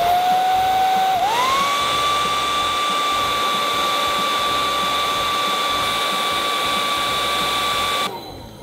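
A hair dryer blows loud and steady on chocolate and marshmallows in a hotel room, its whine rising in pitch as the speed steps up, then cutting off at the end.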